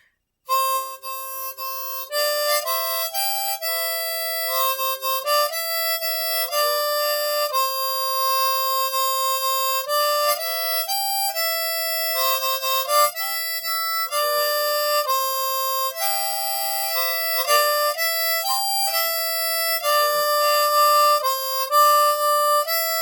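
A harmonica plays the hymn "Nothing But The Blood" alone, a slow, steady melody with sustained chords and clear note changes throughout, loud and close.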